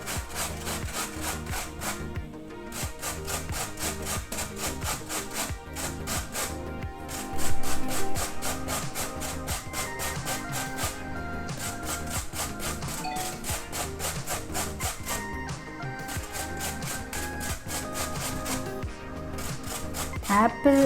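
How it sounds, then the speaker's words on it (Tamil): An apple is grated on a kitchen grater, giving steady, rhythmic rasping strokes that run continuously with brief pauses between bursts. "இப்போ இது கிரேட்டரில் வச்சு இதை நான் கிரேட் பண்ணிக்கிறேன்."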